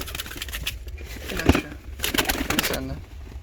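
Fancy and costume pigeons coo in soft rolling bursts at close range, mixed with rustling and light clicks from a loft.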